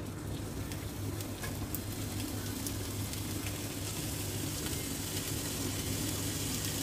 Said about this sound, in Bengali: এই ঘিয়ের মধ্যে আমি কুচানো পেঁয়াজগুলো দিয়ে দেব।